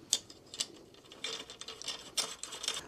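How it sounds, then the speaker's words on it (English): Small metallic clicks and ratcheting ticks come in short irregular bursts as bolts on a SHAD SH23 motorcycle pannier mount are tightened, faint and close with no talk. "gradually tighten all the bolts and get it fixed in place"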